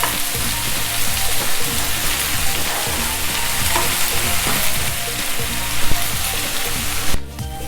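Vegetables, with carrot about to go in, sauté slowly over a low flame for a Tamil coconut-milk chickpea curry, giving a steady, close sizzle with faint stirring scrapes that drops away abruptly near the end.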